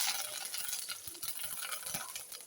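Curry leaves crackle in hot tempering oil with softened onions for a drumstick-leaf dal kuzhambu, a faint, steady sizzle with scattered small pops and stirring.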